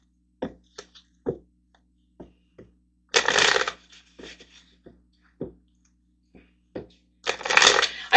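Tarot cards are handled and shuffled in short bursts of papery rustling between scattered sharp taps and flicks, close up and quiet apart from the louder shuffles.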